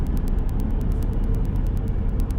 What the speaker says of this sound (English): Man, traffic is heavy out here today.